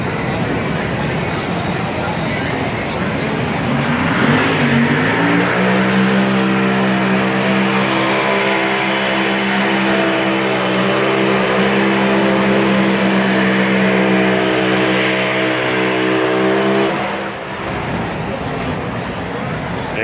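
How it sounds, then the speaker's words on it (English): Tractor pull engines at the NC State Fair heard from above, a loud, sustained droning roar that rises and holds steady, with fairground noise and talk mixed in. "And the tractor pull again."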